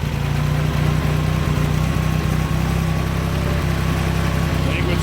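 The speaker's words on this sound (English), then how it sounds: "No choke, starts and idles" An old Ford 2000 tractor engine idles steadily, close and loud, with an even low chugging pulse and a mechanical rattle throughout; a voice is faintly present underneath.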